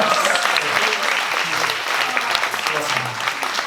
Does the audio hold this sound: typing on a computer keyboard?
no